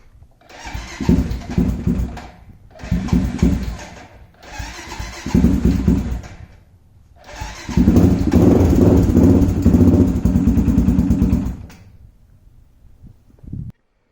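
Honda 400EX ATV on a cold start, cranked in several short bursts before the engine catches and runs steadily for a few seconds, then cuts out, close and loud.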